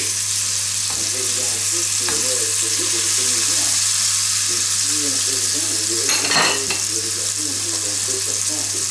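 Peach slices fry and caramelize in a hot pan, a steady broadband sizzle running throughout with a brief louder crackle flare near the end, while a voice talks over it.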